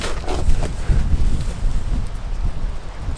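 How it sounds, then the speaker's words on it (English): Strong wind buffets the microphone outdoors, a steady loud roar and rumble with no voices. "It's very windy out here, so you're probably going to hear that on the camera."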